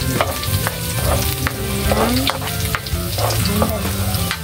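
Garlic sizzles steadily in a hot pan as it is stirred at the start of cooking an octopus adobo, with a constant loud frying crackle and repeated scraping strokes of the utensil against the pan.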